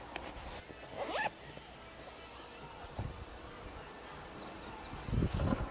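A Sea Ray SPX outboard boat's rolled-up cover being zipped into its storage bag outdoors, with a short zipper pull near the start and a louder burst of zipping at the end over light wind and rustling.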